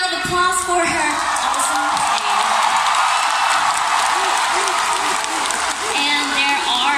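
Big concert-hall audience applause at a show in Manila, a dense steady roar of clapping with scattered whoops and yells running the whole stretch, loud and close.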